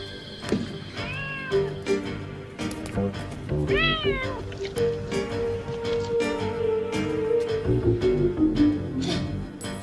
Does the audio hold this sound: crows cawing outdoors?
no